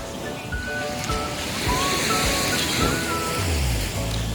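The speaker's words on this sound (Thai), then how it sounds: "บรรยากาศชายทะเลแบบนี้นะ" Seaside waves wash steadily onto the shore at a camping spot by the sea, a continuous rushing surf with some wind buffeting the microphone, while a voice talks faintly in the background.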